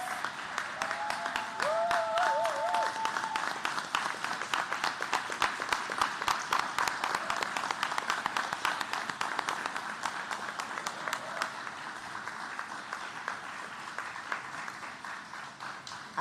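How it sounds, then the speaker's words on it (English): Steady applause from a gala audience honoring the 2023 Morningside recipients at a human rights celebration, dense clapping that holds for the whole stretch and eases slightly near the end, with a brief tonal sound early on. "if you all would give a huge round of applause"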